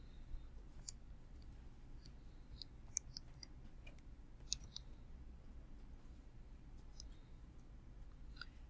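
Soft, sparse plastic key clicks from a calculator being tapped, irregular single presses spread over several seconds against a quiet room hiss.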